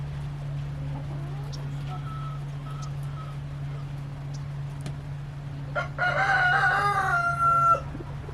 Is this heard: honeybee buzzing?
no